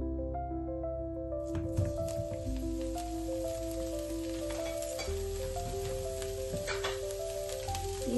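White oil heating and frying in a pan gives a steady close sizzle through the whole stretch, with no talk, while a sustained musical tone plays along underneath.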